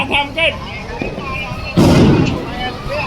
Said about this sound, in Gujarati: હવે ફટાકડા ફૂટવાનો સમય થઈ ગયો છે